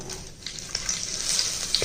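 A steady sizzle and crackle of cinnamon, star anise and bay leaves frying in hot ghee for biryani, close by, with faint stirring clinks over the continuous hiss.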